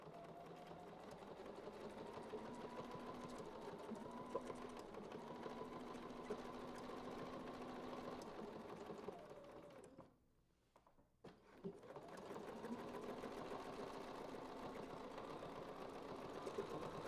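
A sewing machine runs steadily, stitching a leaf-frond quilt design, its motor whirring with a rapid even stitch rhythm; the machine pauses briefly near the middle and then resumes at the same pace.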